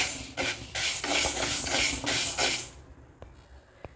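Green gram dry-roasts in a pan over medium heat, stirred with a steady rhythmic scraping and rustling of the grains for a few seconds before the stirring stops and only faint clicks remain.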